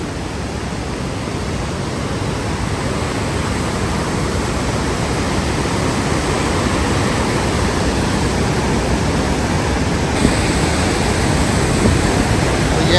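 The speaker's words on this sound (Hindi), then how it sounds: "ये देखिए भाई पानी की आवाज़ आपको दिख रही होगी कितनी ज़्यादा पानी का साउंड है।" The Parvati river in flood near Kasol, Himachal Pradesh, rushes past with a loud, constant broadband roar of fast-moving water, close by and steady throughout, with no voices.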